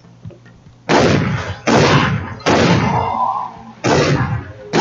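Four loud, booming gunshots in Far Cry 3: Blood Dragon go off at uneven intervals. Each blast decays into a rumbling tail, and the sequence has the punchy feel of game audio.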